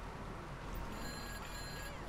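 A phone ringing in the video game GTA Online, a faint electronic ring with steady tones in the second half, over a dense game background with a voice talking nearby.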